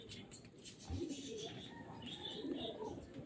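Racing pigeons in a loft give soft, low cooing calls with a few chirps and a brief wing flutter, fairly close, mixed with faint background voices.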